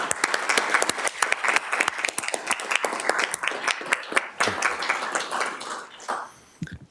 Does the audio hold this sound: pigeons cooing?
no